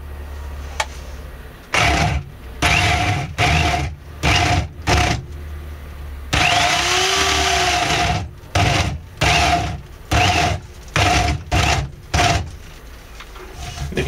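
Soft-wood platter spinning on a wood lathe as a cutting tool bites in repeated bursts, loud rough whirring chatter starting and stopping in an uneven rhythm, with a longer steady cut in the middle.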